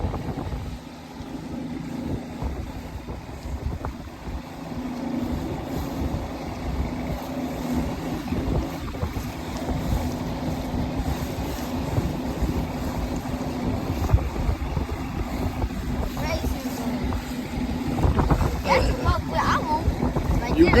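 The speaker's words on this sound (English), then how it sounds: "I'm on the water, we got the boat." A pontoon boat moves across the water on a fishing trip in a rainstorm. Wind buffets the microphone in a continuous rushing roar, and voices talk now and then.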